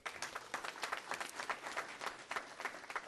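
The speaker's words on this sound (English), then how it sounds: "Give yourself a round of applause." An audience at a Christmas forum gives a round of applause, many hands clapping in a quick irregular patter, fairly distant and soft, with no talk over it.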